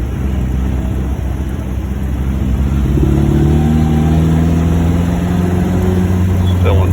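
A 1949 MG YT car's engine pulls in second gear while cruising, a close, continuous drone whose pitch rises steadily as it gathers speed partway through.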